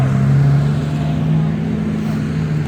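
A Jaguar E-Type drives onto a show field at an AACA Fall Meet in Hershey, its steady low engine drone close by and continuous.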